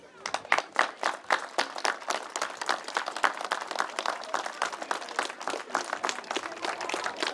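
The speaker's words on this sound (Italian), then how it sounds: "che meritano un applauso." Audience applause at an athletics event start ceremony, a dense burst of clapping from a crowd, fairly distant and moderate in level, continuing steadily for several seconds.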